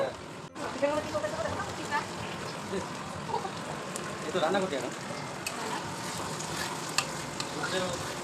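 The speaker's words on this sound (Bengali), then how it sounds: "পেঁয়াজ ভাজার মধ্যে আস্তে আস্তে সব মশলা দিয়ে কষানো হচ্ছে" Onions fry with turmeric, salt and spices in a pan while meat is being cooked, a steady sizzle with stirring scrapes running throughout, close, with people talking over it.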